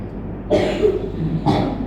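A cough from someone at a dawn mosque sermon, two short bursts about a second apart, heard close and fairly loud with no speech over them.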